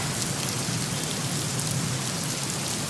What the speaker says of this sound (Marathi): सांगली जिल्ह्यातील शिराळा तालुक्याच्या पश्चिम विभागात गेले पाच दिवस पावसाची संततधार सुरू आहे